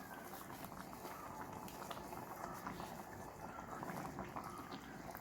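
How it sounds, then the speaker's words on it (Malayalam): A spicy chana masala curry bubbles in a pan, a steady crackling simmer of popping bubbles that carries on evenly throughout, close and fairly soft. "ഇനി ഇതൊന്ന് തിളക്കട്ടെ."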